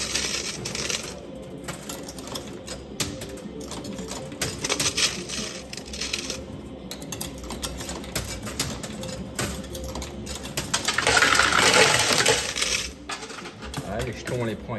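Coins clatter and cascade inside a coin pusher arcade machine, a near, busy rattle of metal pieces sliding and dropping, swelling into a louder rush of falling coins toward the end.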